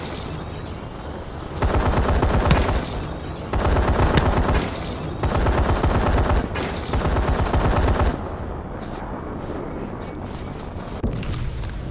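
Bursts of automatic gunfire in a shooter video game, several sustained volleys of dense rapid shots separated by short pauses, loud and continuous with a booming low rumble.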